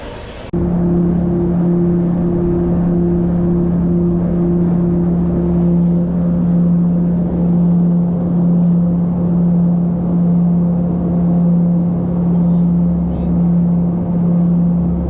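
Inside the cabin of a small airplane flying to Lukla airport, the engine sets up a loud, constant droning hum that starts abruptly and stays steady throughout.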